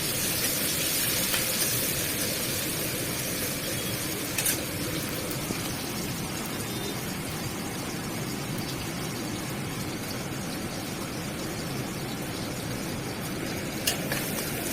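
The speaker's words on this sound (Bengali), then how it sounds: "কড়াইতে আগে থেকে তেল দিয়ে রেখেছিলাম। তারপর পেঁয়াজ কুচি দিয়ে দিচ্ছি।" A loud, steady sizzle of chopped onions frying in hot oil in a kadai crackles without pause, with a couple of brief sharper ticks.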